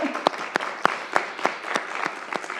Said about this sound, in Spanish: Y yo les voy a pedir aquí un aplauso para Mariana.